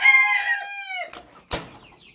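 A black rooster among bantam Cochin chickens lets out a single loud, close crow, followed by a couple of short clucks.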